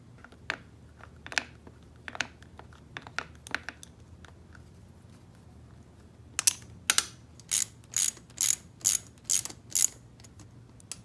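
A ratchet snugs bolts on a Honda 400ex engine during a timing chain and gasket job, first with scattered sharp clicks and then a quick, evenly spaced run of rapid ratcheting bursts, close and clear with no talking.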